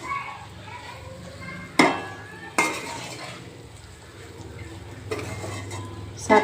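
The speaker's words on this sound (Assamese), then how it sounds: "গোটেই বস্তুখিনি দি মই এইদৰে আচাৰখিনি এতিয়া ভাজিলোঁ।" Olive pickle made with jolphai fries in a pan while a utensil stirs it, giving soft sizzling and a few sharp scrapes and knocks of the spoon against the pan.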